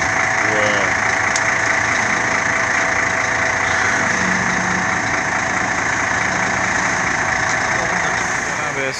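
A large bus engine idles steadily nearby with a constant droning hum, a faint voice briefly audible over it.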